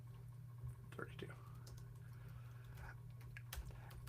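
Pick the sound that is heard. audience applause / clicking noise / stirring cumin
clicking noise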